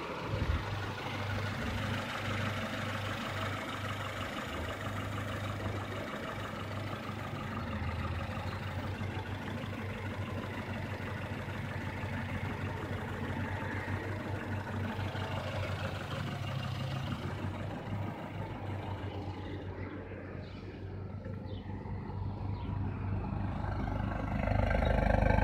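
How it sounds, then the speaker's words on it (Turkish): A warmed-up Mazda 626 engine idles at a slightly raised speed of about 750 rpm, a steady low rumble with a faint uneven stutter, close and continuous with no talking. "rölantisi biraz yükseltilmiş hali. 750 devir falan şu anda."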